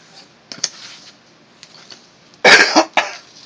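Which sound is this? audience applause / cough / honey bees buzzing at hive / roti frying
cough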